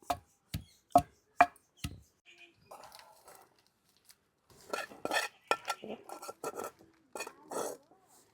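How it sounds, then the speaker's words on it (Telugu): Heavy pestle thuds crush dried prawn shells and dried red chillies, five sharp strikes in quick succession, then quieter scraping and later irregular pounding mixed with a woman's speech. "రొయ్య పొట్టు కూడా మెత్తగా నలిగే వరకు దంచుకుందాం"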